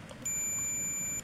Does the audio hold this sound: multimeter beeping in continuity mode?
yes